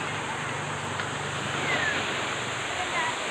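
Floodwater rushes after heavy rain in a steady, broad roar of flowing water, with people talking faintly beneath it.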